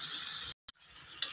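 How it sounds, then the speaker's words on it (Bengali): Onions frying in a pan for a tangra fish bhuna, a close hissing sizzle that cuts out abruptly, followed by a brief faint tick and a quieter sizzle returning with a small spatter near the end. "এখন আমার পেঁয়াজগুলো ভাজা হয়ে গেছে"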